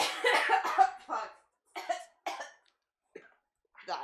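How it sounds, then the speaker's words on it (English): A person coughs hard in a rapid burst of several harsh coughs, followed by a few shorter separate coughs and throat-clearing sounds, close and loud in an indoor podcast setting. "I lost my train of thought in the cough"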